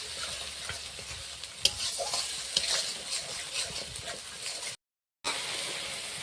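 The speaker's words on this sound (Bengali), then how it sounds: "মশলা কষিয়ে নিয়েছি, তার সাথে ফাটানো টক দইও দিয়ে দিয়েছি। ভালো করে কষে নেব।" Spice paste with sour curd is fried and stirred in a pan, giving a soft, continuous sizzle with scattered scraping stirs, then a short silent break before the frying resumes.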